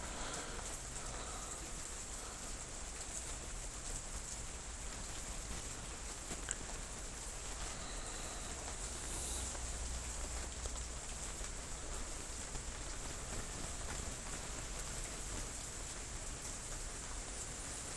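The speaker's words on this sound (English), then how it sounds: "the rain has not let up. It's still coming down." Steady heavy rain falling, a dense, even hiss of drops that stays constant and fairly quiet throughout, with no voices over it.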